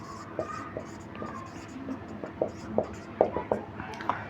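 Writing out a geometry solution during a lecture, a pen or marker scratching with distinct taps and strokes at an uneven rhythm, close and fairly quiet, with faint voice in the background.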